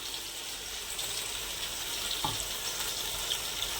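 Ginger-garlic paste and green chili masala frying in a pan for chicken biryani, a steady soft hiss and sizzle throughout, with a faint scrape near the middle.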